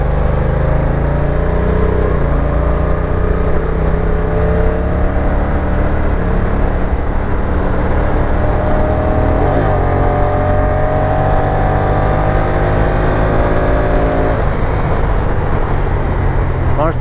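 Honda NT1100 motorcycle ridden at speed on the road, engine drone rising in pitch through gear changes under heavy wind roar, loud and continuous.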